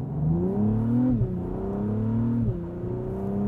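A 2024 Acura TLX Type S engine revs up steadily under acceleration in Sport Plus, its pitch rising and dropping sharply at two quick automatic gear changes before climbing again; close and loud.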